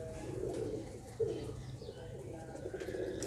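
Soft, low pigeon coos come up close in a quiet room from a pigeon held in the hand, a few gentle throaty murmurs over faint background noise.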